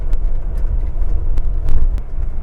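A manual 1993 Mercedes 300GE G-Wagon driving, with a steady low engine and road rumble filling the cabin and a few faint rattles and knocks from the rugged ride.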